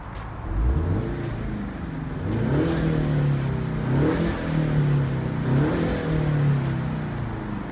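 A 2020 Ford Mustang EcoBoost convertible with a 4-cylinder engine, driven with the top down, revs up repeatedly through several gear changes, its steady mid-pitched drone over road and wind noise and no talking.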